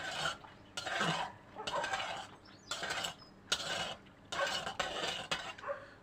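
A marinade for smoked pork being stirred in a pot, repeated scraping and swishing strokes in bursts with short pauses, close and fairly loud.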